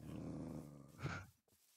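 Low, rumbling growls from demon dogs in a video game, faint and continuous for about a second before fading.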